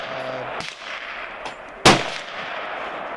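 A Taylor's 1873 Colt single-action revolver made by Uberti, its action lightened with a reduced spring, fires one sharp, loud crack, preceded by a couple of fainter clicks or knocks.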